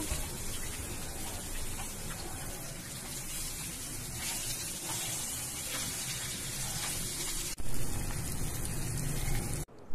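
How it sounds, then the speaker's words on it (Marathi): Karli fish pieces shallow-frying Malvani style in a pan, a loud continuous crackling sizzle held steady close by, with a brief dip and then a louder burst of spattering near the end. "आता दुसऱ्या बाजूने हे छान परतून घेऊया।"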